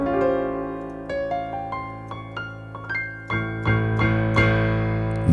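A dissonant chord built with diminished and augmented notes is played on a keyboard, its notes entering one after another in a staggered rhythm and building into a dense, sustained cluster, clear and unaccompanied.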